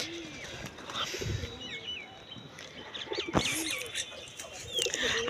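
Pigeons coo softly near a rooftop pigeon house, with low rounded calls and scattered chirps over steady outdoor background noise and a sharp knock partway through.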